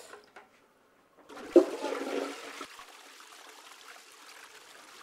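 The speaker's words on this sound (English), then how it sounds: "I can only spare 3 litres of water for the flush." A toilet flushed with only 3 litres of water, a short close gush and swirl of water that quickly fades into a quiet trickle.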